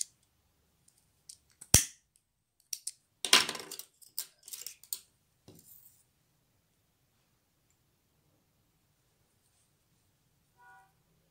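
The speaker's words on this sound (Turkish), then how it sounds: "Yine bunu sivri bir şekilde ucunu kestim." Scissors snipping organza fabric, a handful of crisp cuts and clicks in quick irregular succession close up in a quiet room, followed by silence.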